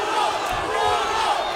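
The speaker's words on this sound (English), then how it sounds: "The crowd is cheering for Hugo Flores." A crowd at a fight between Sergio "Drako" Cossío and Hugo "Hooligan" Flores cheers and chants for Flores in a loud, sustained arena roar with overlapping voices, with no clear single speaker.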